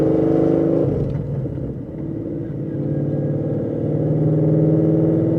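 A 2016 Ford Mustang RTR engine on the road, heard from inside as a loud, deep rumbling drone that drops briefly as if at a shift, then builds again steadily while driving.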